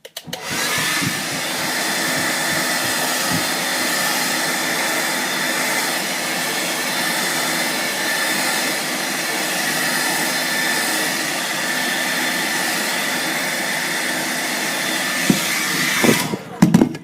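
A Pro Blo hair dryer blasts air onto curled hair in a steady, loud, close whoosh that runs almost unbroken before cutting off, with a few faint handling noises at the end.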